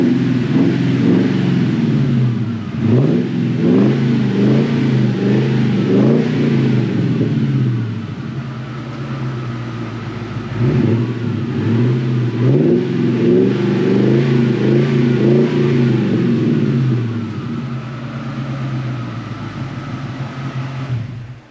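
A Ford Mustang's engine idles with a deep, steady rumble and revs up in repeated swells, loud and close, running continuously without any talk.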